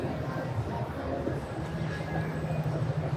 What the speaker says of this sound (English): we are in Chilpancingo metro station and metro bus station